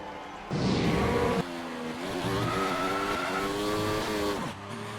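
Formula One cars driving slowly on a near-freezing track, a loud engine whine that rises and falls with gear changes as the cars pass nearby, no talk.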